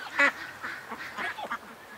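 Canada geese and ducks call in a yard near a garden and swamp, a few moderately distant honks and quacks scattered over soft background noise.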